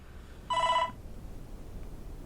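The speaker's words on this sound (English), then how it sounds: "now my phone is going off" A mobile phone ringing once in a short electronic burst of stacked tones, about half a second long, fairly clear over a quiet room.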